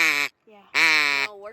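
A man imitates a duck call with his voice, giving two nasal, buzzy quacking honks separated by a brief pause, close and fairly loud, with softer voiced sounds trailing each.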